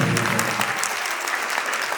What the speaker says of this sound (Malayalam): ഒന്ന് കൈയടിച്ച് ഈ കുടുംബത്തെ മക്കൾ ആദരിക്കണം